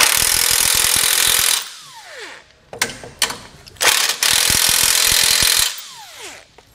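A power tool drives 16 millimeter bolts into a base plate mount on a 2019 Jeep Wrangler, two long loud rattling impact bursts separated by clanks and handling noises.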